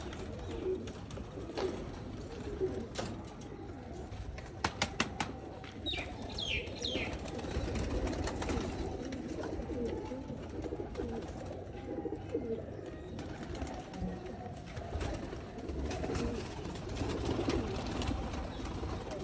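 Sialkoti rooftop pigeons coo softly and steadily, with low throaty calls repeating throughout, along with a few faint wing flaps and small rustles nearby in an otherwise quiet outdoor setting.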